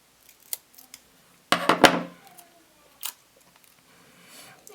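Scissors cut paper for a mini planner, with a few soft snips followed by a louder, close run of cutting and another sharp snip.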